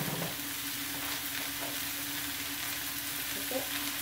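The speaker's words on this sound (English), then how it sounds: "I'm going to fry my beef, minced beef" Minced beef fries in a pan with a steady, soft crackling sizzle that runs unbroken and close by, with no talk over it.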